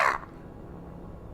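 Voice imitating a loud bird caw during a tabletop fantasy role-playing game: one harsh, close squawk, then low background noise.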